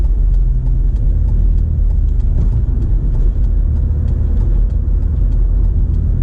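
A 2004 BMW E46 318i engine drones steadily while driving on the road, a loud, continuous low rumble with road noise and no break.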